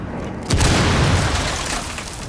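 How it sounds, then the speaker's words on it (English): A breaching charge detonating on a top floor in Rainbow Six Siege, one sudden loud boom followed by a long rumbling, crackling tail of debris and ambience. "Nelson's breaching in the top floor"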